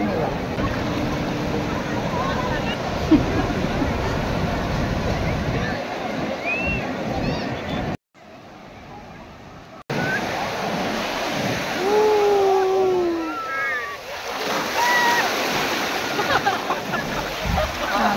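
Sea waves wash and churn on the beach at Puri, a loud, continuous surf with a brief drop-out midway, while voices and high whistle-like calls sound faintly over the water.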